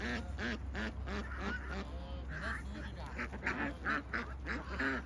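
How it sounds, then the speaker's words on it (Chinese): A flock of about forty farm ducks quacks over and over at close range, the harsh calls overlapping in a busy, continuous chorus. "你们这鸭子跑惯了耶"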